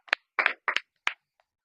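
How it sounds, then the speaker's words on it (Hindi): A handful of separate hand claps at a Sunday school morning meeting, sounding close and sparse with short gaps between them rather than sustained applause. "जोरदार तालियां।"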